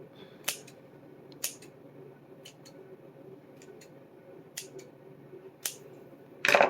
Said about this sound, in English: now you're just going to be careful and trim it to make like a little pom-pom ball.